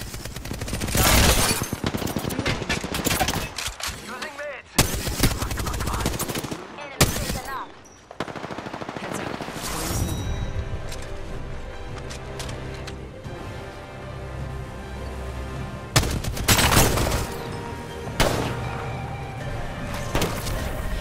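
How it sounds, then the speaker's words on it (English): Sustained automatic gunfire and bursts of shots in the video game Apex Legends, loud and close, with brief pauses and booming impacts layered over game sound. "Enemy spotted. Opening fire."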